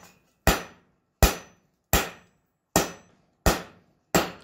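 Six sharp hammer blows on 5160 coil spring steel while forging a taper for a round punch, evenly spaced and ringing briefly, close and loud with silence between strikes.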